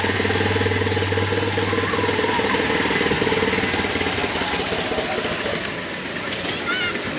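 Motorcycle engine runs steadily close by with a rough, buzzing idle and throttle, loud throughout and easing slightly toward the end, with someone talking over it.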